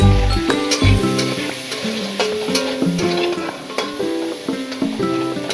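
Shrimp dusted with turmeric fry lightly in a pan, a loud close-up sizzle interrupted by repeated scraping and clattering of stirring against the pan.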